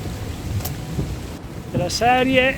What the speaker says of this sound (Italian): piove, ma senti come piove, ma guarda come piove